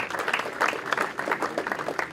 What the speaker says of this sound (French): Bonjour, oui, on peut applaudir.